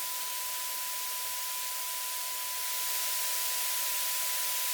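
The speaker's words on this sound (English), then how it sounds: "this white noise is playing at its full peak level" Steady broadband white noise plays alone at full, uncompressed level, a constant hiss that swells slightly louder partway through, with a faint steady tone running beneath it.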